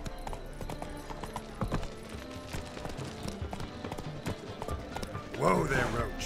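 Hooves of Geralt's horse Roach clip-clop steadily in Witcher 3, a brisk regular trot with a few louder strikes and a short whinny-like burst near the end, with voices talking over it.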